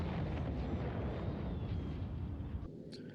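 Rocket launch in a space-age video game: a loud, sustained rumbling roar with a faint rising whine that holds steady for about two and a half seconds, then drops away abruptly.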